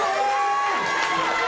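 Crowd noise from spectators packed into a powerlifting state championship venue, a steady broadband murmur of many voices with occasional calls rising over it, fairly loud and continuous throughout.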